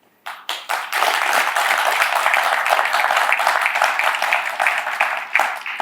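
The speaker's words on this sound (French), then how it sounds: "Je vais les saluer avec des applaudissements." Audience applause at a public event honouring a foundation for albinos and other vulnerable people, with dense, steady clapping from a crowd that rises after a quiet start and holds loud for several seconds.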